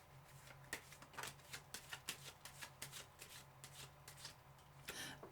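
Tarot cards being shuffled in quick riffling bursts, a series of crisp flutters and snaps close by, with no talking.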